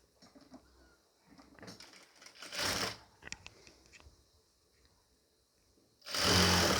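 A sewing machine stitches a nightie in two short whirring runs, the second louder and closer, separated by quiet handling and rustling of fabric.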